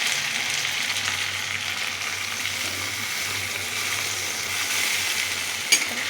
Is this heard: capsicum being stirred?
yes